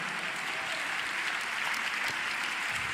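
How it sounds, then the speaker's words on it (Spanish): A church congregation applauds during a worship service, steady dense clapping throughout at moderate distance, with no one speaking over it. "Dele un aplauso al Señor en esta hora."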